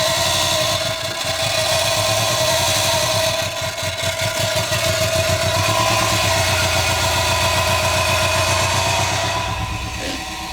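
A Subaru WRX STI engine runs loudly and close, a steady rough rumble with slight throttle changes as the car pulls in, alone with no talk.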